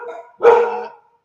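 A single dog barks once, sharp and close, after a brief quieter whine or yip, with silence afterward and no talking.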